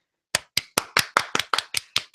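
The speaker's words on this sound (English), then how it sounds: "let's clap so I can find this when editing" Two podcast hosts clap their hands about nine times in a steady rhythm, sharp close slaps standing alone in an otherwise quiet studio.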